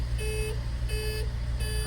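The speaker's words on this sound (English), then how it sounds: "that beeping, if you know Volvos, means the key's in, the door's open." A repeating electronic chime beeps at an even pace, three pulses, over a low idling engine rumble inside a 1983 Volvo 240 DL automatic estate, warning that the key is in and the door open.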